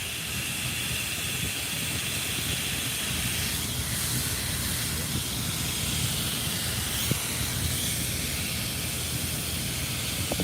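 Steady broadband hiss of argon gas venting at SpaceX Starbase in Boca Chica, Texas, a continuous roar held at even loudness throughout with faint low rumble beneath.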